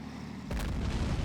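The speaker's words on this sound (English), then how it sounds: "Oh! Explosions." Artillery fire and explosions from the war video game Men of War: Assault Squad 2 land as one sudden loud deep boom over a low battlefield rumble, then roll on as a dense, crackling blast.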